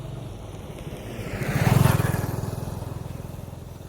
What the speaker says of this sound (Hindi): तो उससे पहले एक बाइक को निकलने देते हैं हम